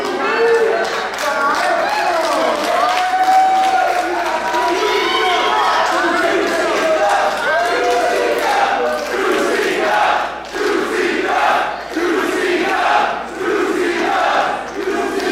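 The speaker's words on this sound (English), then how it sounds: "to hear the 2CW chants here from the fans in attendance" Fans in attendance at a 2CW Reunion professional wrestling show chant and cheer in unison, a loud, steady crowd roar with rhythmic swells throughout, while indistinct voices carry over it.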